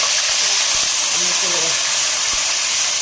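Ginger garlic paste sizzles steadily in hot ghee in a karahi while Peshawari Shinwari chicken karahi is being cooked, a loud continuous hiss with faint low sounds underneath.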